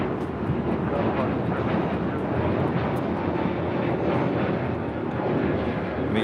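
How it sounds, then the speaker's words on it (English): Delta Boeing 767-300ER jet departing LAX, a steady, moderately loud jet engine roar that fills the whole stretch, with a voice partly audible underneath. "Delta 767 at 300 ER. This flight heading to Mexico City."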